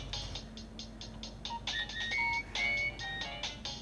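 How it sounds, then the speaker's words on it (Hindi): A mobile phone rings in a Pakistani drama scene, its electronic ringtone playing a short run of bright melodic beeps, moderately loud and near, with no one speaking over it. "आरव का फोन आ गया।"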